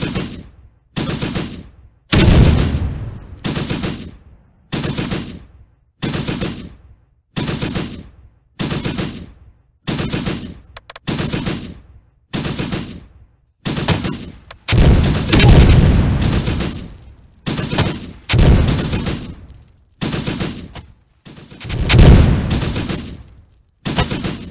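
Heavy gunfire in a video game battle, loud close bursts of automatic fire repeating in steady rhythmic volleys with brief gaps, some longer rumbling blasts mixed in.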